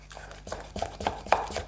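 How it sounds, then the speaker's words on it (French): Thick apple fritter batter flavoured with a few drops of vanilla being mixed in a bowl, a series of soft, uneven clicks and taps of the utensil against the bowl, close and moderately quiet, with no talking. "Et je vais mélanger tout ça."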